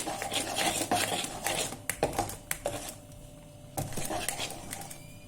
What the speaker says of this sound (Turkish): Spatula ile şu şekilde içe doğru karıştırıyorum.